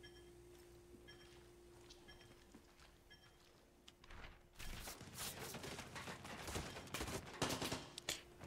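Rapid bursts of gunfire in Far Cry 6 erupt after a few quiet seconds, loud and dense with overlapping shots and sharp cracks, continuing steadily to the end.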